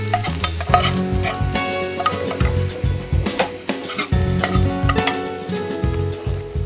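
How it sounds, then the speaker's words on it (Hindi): Two chopped onions fry in a hot pan while being stirred vigorously, so a loud sizzle sits under a busy, rhythmic clatter of the spoon scraping and knocking the pan. "इसमें 2 कटे हुए प्याज डालते हैं। इसको हम पिंक करेंगे।"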